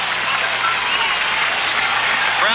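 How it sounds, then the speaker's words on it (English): Large outdoor crowd at the finish of the 1980 New York City Marathon, a steady wash of cheering and clapping, broad and continuous without distinct voices. "Crowd going crazy here."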